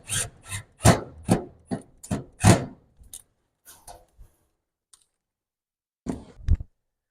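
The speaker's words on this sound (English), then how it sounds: "I've got mine set, so I'm going to go ahead and install the screws" Screws driven into the ember plate of a Napoleon 24-inch Woodland electric fireplace: a run of about nine close, rasping turns, then a pause with a few faint clicks and one final short burst, no talk.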